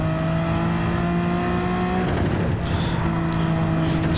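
Racing car engine in a racing video game revs hard under acceleration, a loud steady drone with rising pitch, dipping briefly midway before building again, with no voices.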